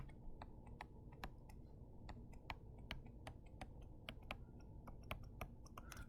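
Calculator keys tapped in quick succession, a dense run of light plastic clicks in uneven rhythm, close but faint over a low steady background hum.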